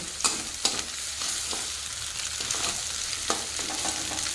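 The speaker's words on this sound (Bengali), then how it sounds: "এখন সবগুলোকে মিশিয়ে ভেজে নেব। আপনারা চাইলে ডিমটাকে আলাদাভাবে ভেজেও দিতে পারেন।" Egg stir-fried with chow mein ingredients in a pan, a continuous sizzle with scattered scraping stirs, fairly close and steady, no talk.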